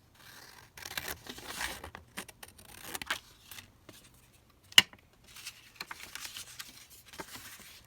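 Scissors snip and rustle through paper while making a flip-out pocket, a series of quiet, close cuts and crinkles with one sharp click midway.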